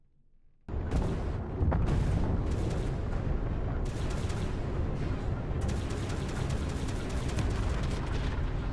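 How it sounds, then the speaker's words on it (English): Loud, continuous booming explosions rumble and crackle without pause, a dense roaring barrage of sci-fi spaceship blasts in space in the video game Starfield. "Explosions in space"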